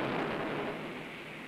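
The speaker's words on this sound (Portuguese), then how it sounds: "Sentar nessa cadeira, esperar a chuva passar," Steady, loud rainstorm with a deep rumble of thunder, a dense continuous roar from a 1975 Brazilian film scene, with no talk over it.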